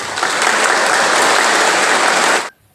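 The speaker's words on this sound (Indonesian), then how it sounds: "Jangan tepuk tangan terus." An audience at a civil servant assembly in Keerom, Papua, applauds loudly and steadily, the dense clapping holding a constant level before stopping abruptly near the end.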